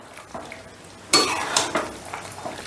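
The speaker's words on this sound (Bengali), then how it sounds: "এবার আর মশলা আর ঘিটা একটু নাড়াচাড়া করে মিশিয়ে দিচ্ছি" Spices and ghee are stirred together in a pan: a quiet start, then a loud burst of sizzling and scraping that keeps going in uneven surges.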